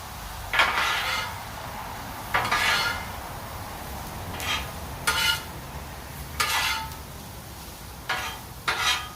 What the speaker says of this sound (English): Now we'll go ahead and mix it all together.